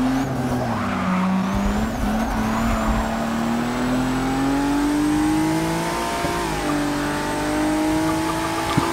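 Race cars in Forza Motorsport 6 working through a corner at Watkins Glen, loud engine whine rising and shifting steadily with tire scrub and a second car's engine layered underneath, no speech.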